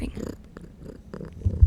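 A cat named Possum purrs close by in a soft, low rumble, heard briefly under quiet talking.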